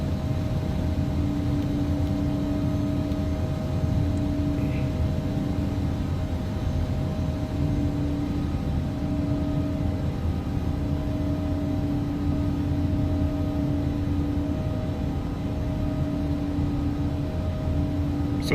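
A BAe 146-300 jet taking off in the X-Plane 11 flight simulator produces a steady, droning engine hum with a constant hiss. It runs evenly throughout at moderate level, with no speech.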